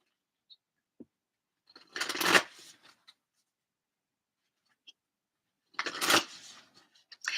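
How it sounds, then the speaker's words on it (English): Moonology oracle cards being shuffled: two distinct riffling bursts of card stock, each about a second long and close up, separated by quiet with a few faint taps between. "So, gonna get some cards from my Moonology deck."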